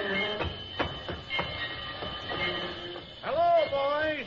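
A train in a 1943 radio drama rumbles along with rhythmic clanks from its wheels, then loud, drawn-out squealing tones rise as it slows to a stop.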